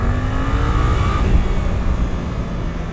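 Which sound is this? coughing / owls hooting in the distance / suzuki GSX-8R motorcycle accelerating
suzuki GSX-8R motorcycle accelerating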